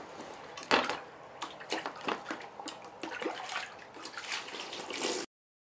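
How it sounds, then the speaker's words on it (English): Water splashes and trickles as it is poured over a wooden Mosin Nagant rifle stock sitting in a bath to clean off cosmoline, a close, continuous pouring with clinks and drips that stops abruptly. "We're gonna use the water in here to pour over the wood."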